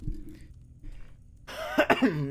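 A single close cough near the start, followed by quiet and then a brief throaty rasp like clearing the throat.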